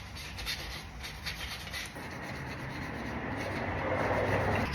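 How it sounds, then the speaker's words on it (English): A car rim with curb rash being sanded by hand with 400 grit sandpaper, a steady close scratchy rubbing that grows slightly louder toward the end, with no voices. "Time to move on to the 400 grit sandpaper."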